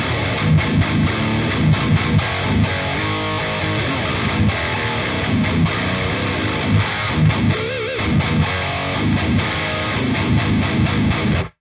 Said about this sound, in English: this is a V30 in a 1x12 PRS cab, mic'd up with a B906 by Behringer dynamic mic